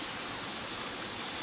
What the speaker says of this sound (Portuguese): Faz hora que tá fervendo a água